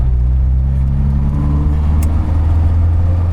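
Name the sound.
1975 MG Midget engine revving while changing gear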